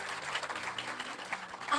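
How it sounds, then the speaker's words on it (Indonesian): A church congregation claps steadily and evenly, a dense patter of many hands filling the space without a break. "Tepuk tangan buat Tuhan Yesus."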